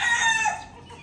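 Backyard chickens cluck and squawk in a brief, close burst of a bird's call that fades quickly, with no talk.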